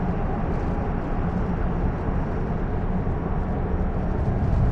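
Airplane flight through turbulence in the survival game Stranded Deep, a steady loud roar of engine and rushing wind filling the whole stretch without a break, heard from inside the cabin with no talk.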